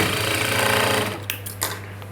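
A sewing machine runs a top stitch on a blouse, a close, rapid mechanical chatter for about a second, then slows to a stop with a steady hum and a couple of soft clicks.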